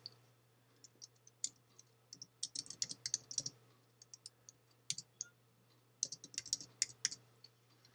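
Keys clatter on a computer keyboard in quick irregular bursts while text is entered into a Microsoft Word document, close and fairly quiet over a steady low hum, with no talking.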